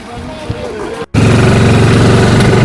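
A motorcycle engine runs steadily and loudly at close range on the road to Boyakonda Gangamma temple, with a brief drop before the rumble resumes at full strength.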